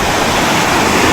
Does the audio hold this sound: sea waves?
yes